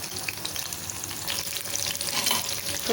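Masala-coated soya chunks deep-frying in oil for soya 65 hiss and crackle continuously, growing slightly louder toward the end, close and unaccompanied by talk.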